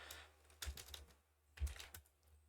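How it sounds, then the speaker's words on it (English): A few quiet keystrokes on a computer keyboard as a web address is typed, two brief clusters of soft clicks separated by a pause, close and faint. "open up your web browser, and then over here just type in battle.net."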